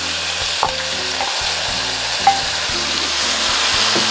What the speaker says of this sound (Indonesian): Minyaknya sudah panas. Saya masukkan bumbu yang sudah di blender kasar.